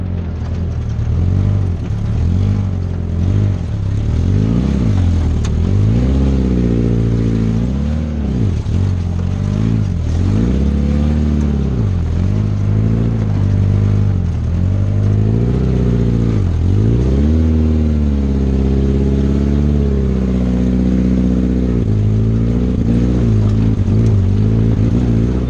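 A Suzuki Samurai's engine labors off-road in four-wheel drive with lockers engaged, rising and falling in repeated revs over uneven ground, loud and close for the whole stretch, with some rattling and no talk.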